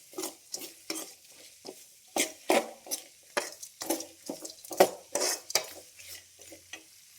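Cumin, mustard seeds and onions fry in a pan, heard as a soft sizzle under a series of distinct stirring scrapes and utensil knocks against the pan, irregular and close, with no talking.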